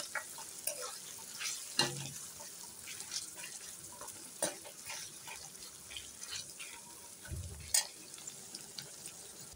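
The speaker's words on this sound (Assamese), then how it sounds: "পিঁয়াজ দিছোঁ সৰু সৰু চাইজৰ পিঁয়াজ ধুনীয়াকৈ এইখিনি ফ্ৰাই কৰি ল'ম" Five small chopped onions frying in a pan for an Assamese chicken curry, a quiet steady sizzle broken by a few sharp scraping stirs and clinks of the utensil, with no talking.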